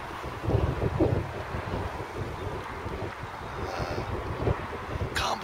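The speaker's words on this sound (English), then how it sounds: "That wind is still whipping through as well." Strong wind blows steadily past the microphone at the seashore during sea fishing, a constant low roar with gusts, heard alone without voices.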